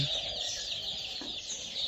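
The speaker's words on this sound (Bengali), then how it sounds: "আপনারা আমার যে মুরগির বাচ্চাগুলো আজকে দেখতেছেন, এটা কালার বার্ড" Nine-day-old colour bird chicks clucking and peeping softly over a steady, loud hiss of background noise on a very hot day.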